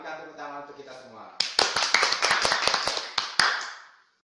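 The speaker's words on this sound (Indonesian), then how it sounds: "Berikan tepuk tangan untuk kita semua" A brief spoken phrase leads into a short burst of clapping from a small junior-high math class, crisp irregular hand claps for about two seconds before stopping abruptly.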